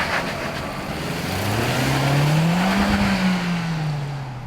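A Vauxhall Astra GTC with a 1.6 turbo petrol engine drives up the Shelsley Walsh hill climb course, its engine note rising and falling steadily, loud and close, with no one talking.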